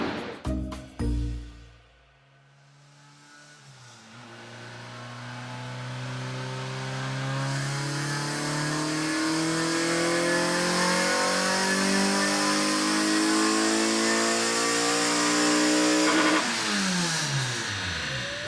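A car engine on a dyno starts with a few short blips, then drops to idle. It climbs in one long, loud, steady rev that holds high and cuts off near the end, with no voices over it.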